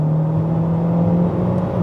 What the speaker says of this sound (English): I'll put it in fourth gear, so not really anywhere near the power.